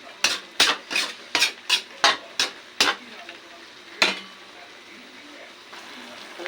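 Radish, carrots and red pepper stirred in a pan, about eight rhythmic, sharp utensil scrapes and clacks in quick succession, then one more after a pause, over a faint sizzle.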